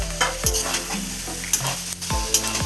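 Fish head, potato and eggplant sizzling in frying spice paste while being stirred, a steady close sizzle broken by repeated scraping strokes of a spatula against the pan.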